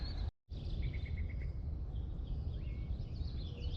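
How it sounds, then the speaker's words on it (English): Birds chirp and sing outdoors, with a short run of repeated high notes and scattered calls set against steady low background rumble and insect-like hiss, moderately distant and faint. "Just listen into the sounds of birds."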